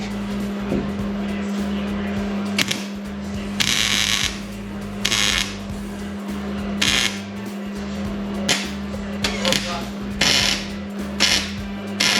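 Repeated short bursts of metal ratcheting and gritty cutting come from threads being tapped for pedal mount bolts in a race car build shop, close and sharp over a steady low shop hum.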